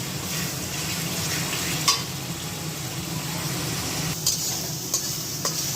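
Chicken pieces hit hot spiced oil for a biryani, giving a steady, close hiss of frying with a few sharp clinks and scrapes of stirring on the pot.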